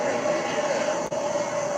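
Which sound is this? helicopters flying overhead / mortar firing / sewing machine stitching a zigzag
helicopters flying overhead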